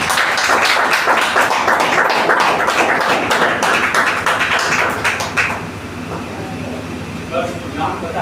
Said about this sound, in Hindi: इसी कड़ी में शिवा सर के लिए भी जोरदार तालियां होनी चाहिए